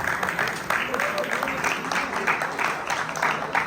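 Crowd applauding the chief guest at the evening ceremony of a futsal cup final, a steady dense wash of clapping that runs throughout, with voices mixed in.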